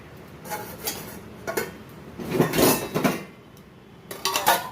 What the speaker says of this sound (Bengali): এখন আমি এটা চাপা দিয়ে রেখে দিচ্ছি